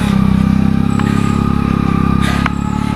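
A motorcycle engine runs steadily close by on a misty Parasnath hill pilgrim route in Jharkhand, a continuous loud drone with slight revving and clatter throughout.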